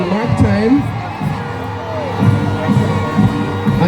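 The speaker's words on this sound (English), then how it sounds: "And just keep the applause going as you see something that looks really good." Crowd at a military passing out parade cheering and applauding, a loud continuous mix of claps and shouts with voices over it.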